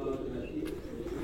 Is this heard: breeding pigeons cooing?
yes